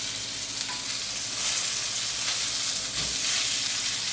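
Butter sizzles and fries in a hot pan on a home stove, a loud, continuous crackling hiss with a few brief stirring knocks, no talking.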